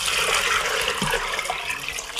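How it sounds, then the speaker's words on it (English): Water pours in a strong, steady gush into an Instant Pot pressure cooker holding Great Northern and pinto beans, a loud, close splashing rush that tapers slightly toward the end. "Before we turn on the lid, we put in 6 cups of water."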